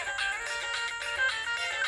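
A melodic phone ringtone plays continuously at a steady moderate volume, its repeating tonal pattern clear with no one speaking.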